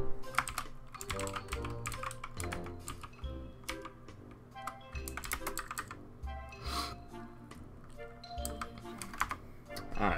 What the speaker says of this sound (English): I'm trying to type here.